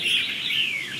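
A red-whiskered bulbul (chào mào) from Laos sings a short, bright, warbling phrase, close and clear over a faint background hiss.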